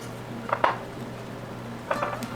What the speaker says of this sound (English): I'm gonna measure out 4 cups of flour into my measuring cup